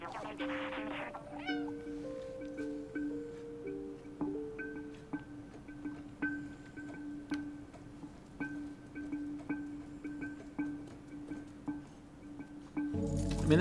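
In the video game Stray, a cat lets out an opening meow, followed by soft repeated clinks and taps over a sustained ambient game tone, ending in a louder burst.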